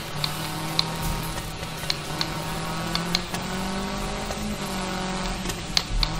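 A rally-style race car in the video game Gravel drives a lap on the PC, with a continuous engine drone shifting in pitch through gear changes and small sharp clicks scattered over it.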